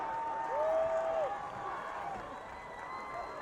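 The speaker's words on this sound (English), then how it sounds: "we're getting a big cheer now from the student section and that Raider sideline" A high school football crowd and student section cheer at an October game, a broad steady roar in the distance, while whistle-like tones rise and fall over it.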